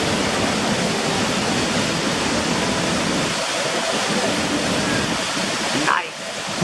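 Roar of a waterfall about 30 meters high, heard up close as a loud, steady broadband rush that fills the whole clip and dips briefly near the end.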